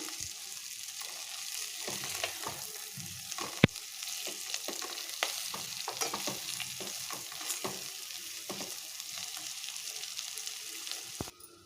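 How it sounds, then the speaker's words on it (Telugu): Cluster beans being tossed with spice powder in a frying pan, a soft sizzle under repeated scraping and clinking of a spoon against the pan, one sharp knock early and another near the end; no talk. "ఇప్పుడు ఈ పొడి మొత్తం ముక్కలకు పట్టేలాగా కలిపేసుకుందాం"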